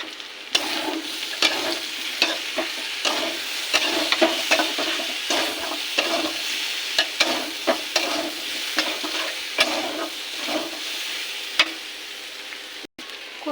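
Potatoes for aloo posto fry and get stirred in a pan, a loud continuous sizzle with frequent sharp scrapes and knocks of the spatula, no voices.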